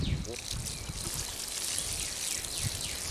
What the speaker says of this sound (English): Just give these a good drink of water